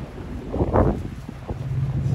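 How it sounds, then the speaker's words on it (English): Gusty wind buffets the microphone in low rumbling bursts, loud and close, with a stronger blast near the start. "Holy frick, it's windy."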